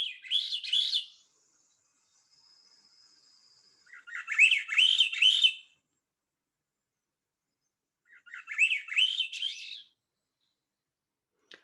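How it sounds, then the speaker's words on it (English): A Swainson's thrush sings three separate phrases of fluting, upward-spiraling notes with long silent gaps between them, clear and fairly close. "Swainson's thrush. It's a very, very distinctive song, which is described as an upward spiral."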